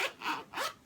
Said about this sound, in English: zipper it up, and you are good to go